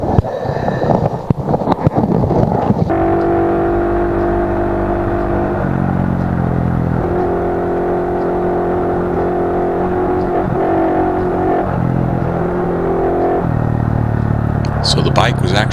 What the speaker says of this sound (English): So the bike was actually running good as long as I stayed on it.